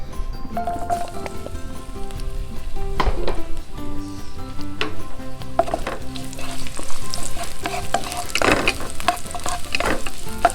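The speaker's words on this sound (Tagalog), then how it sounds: "Nagpapainit po tayo ng mantika sa kalan at magigisa na tayo ng ating bawang" Garlic sautéing in hot oil on a backyard stove, a continuous close sizzle and crackle with several sharper spits and stirring scrapes over about ten seconds, no talking.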